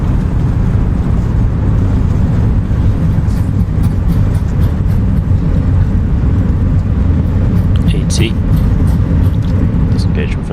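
Airbus A320 landing at St. Moritz Samedan airport, the engines roaring loudly and steadily in reverse thrust after touchdown, with a voice talking over them.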